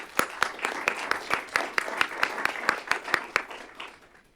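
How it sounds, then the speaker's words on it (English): A board meeting audience claps for several seconds, a steady run of crisp, evenly spaced hand claps that carries clearly and then fades out near the end. "It's not often the finance guy gets a round of applause."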